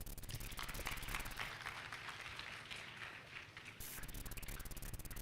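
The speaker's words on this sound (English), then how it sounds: "I think you need to clap for yourselves" An audience claps at a school faith event, a dense, steady patter of many hands, fairly faint and distant, easing slightly midway before picking up again, with no talking.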